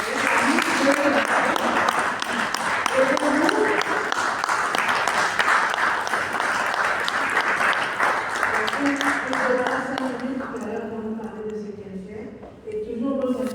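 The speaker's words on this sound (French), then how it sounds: "J'aimerais qu'on l'applaudisse." Audience applause at a French-speaking event honoring guests, a dense steady clapping that fills most of the stretch, with a voice talking over it and the clapping thinning toward the end.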